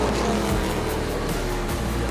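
Race cars roar around a slippery track, a dense continuous engine drone with a passing surge, loud and steady throughout.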